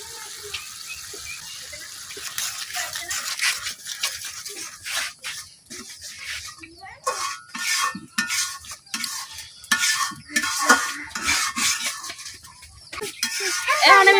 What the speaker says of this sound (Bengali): মশলাটা কিছুক্ষণ কষাইলাম।